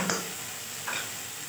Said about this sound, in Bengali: মশলাটা আমার কষা হয়ে গেছে।